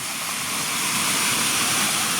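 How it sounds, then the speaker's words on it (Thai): Chanod waterfall at Nong Waeng in Udon Thani, Thailand, roars as a loud, steady, continuous rush of falling water that fills the scene with no voices. "เนี่ยครับน้ำตกตะโนดสวยงามครับ"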